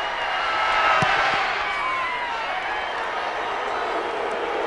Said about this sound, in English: the booing is still the prior penalty call